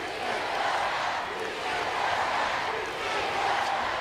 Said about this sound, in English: this capacity crowd in Laredo chanting, "Si se puede."